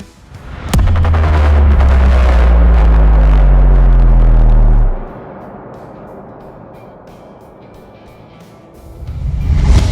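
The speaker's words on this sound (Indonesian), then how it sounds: "Mesinnya V-twin 245cc injeksi SOHC. Suaranya cukup memanjakan" A QJM SRV 250 Libero scooter-style motorcycle with a 245cc fuel-injected SOHC liquid-cooled V-twin revs loud and close with a deep rumbling roar, then drops to a steady idle before revving up again near the end.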